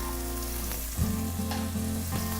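Chopped onion and garlic hit hot olive oil in a soup pot and sizzle steadily and loudly, a sharp burst of frying at the start, with no talking.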